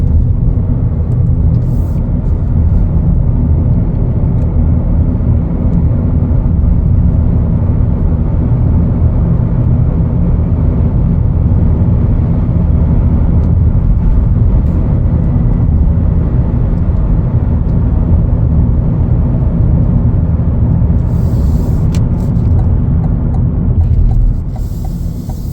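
A 2025 Chevrolet Equinox LT FWD picking up speed, heard from inside as a steady, loud low rumble of engine and road noise that holds throughout with no talking.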